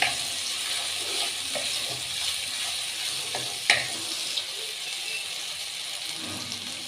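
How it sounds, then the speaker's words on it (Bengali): Whole cumin seeds sizzle in hot oil in a home kitchen pan while being stirred for a fish chop recipe. A steady crackling hiss runs throughout, with a few sharp clicks of the spoon against the pan. "আর দিয়ে দেবো একটুখানি জিরে ফোড়ন, গোটা জিরে।"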